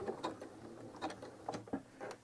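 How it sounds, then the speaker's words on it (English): A sewing machine back stitching on a jelly roll rug, giving a faint, uneven run of mechanical clicks and whirs over a few seconds. "I'm just going to back stitch a couple."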